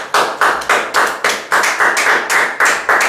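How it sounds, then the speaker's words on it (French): A worship congregation claps in a steady rhythm, about ten loud, close, even beats spread over three seconds, with no voices. "Acclamons pour le Seigneur."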